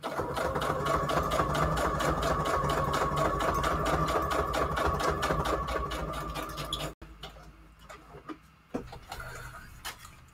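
Sewing machine running a straight stitch on a book page pocket craft, a steady fast mechanical whir and needle clatter for about seven seconds, then stopping, followed by a few faint clicks and handling sounds.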